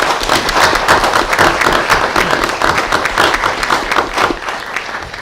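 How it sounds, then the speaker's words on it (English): People at a school board meeting give a loud round of applause for the students' artwork, a sustained burst of close clapping that rolls on and eases slightly toward the end. "Let's give these folks another round of applause."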